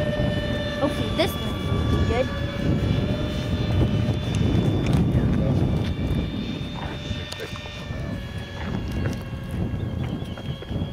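A twin 70mm electric ducted fan RC A-10 jet model flies with its flaps fully lowered, giving a steady, fairly loud whine and roar that continues throughout, with voices and outdoor noise mixed in.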